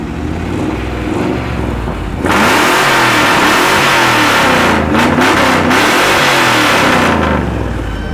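A US car at the Stříbrný rybník 2025 meeting idles with a low rumble, then its engine revs hard and loud, with the exhaust roaring in several surging bursts at close range.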